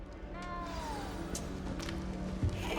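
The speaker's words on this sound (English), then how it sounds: "It's all right. You don't need to be frightened, little cat." A small cat meows in Hogwarts Legacy, a drawn-out plaintive call near the start over a steady low game ambience, with faint further sounds afterward.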